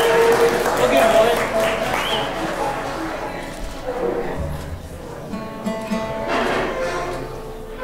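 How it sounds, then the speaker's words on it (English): Audience applause at a winter bluegrass concert, a loud burst of clapping and cheering at the start that thins out, with voices talking over it in the middle. "Give him a round of applause."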